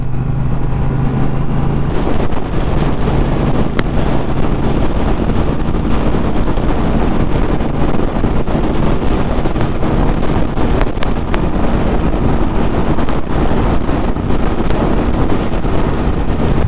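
Constant roaring wind rush while riding a 2019 Triumph Bobber Black motorcycle with no front protection at motorway speed on a dual carriageway, with a low engine drone underneath, loud and unbroken.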